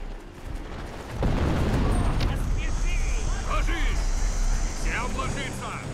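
Old guild cannons in the fantasy strategy game BattleForge let out a heavy booming blast that swells into a sustained rumble, while voices talk over it.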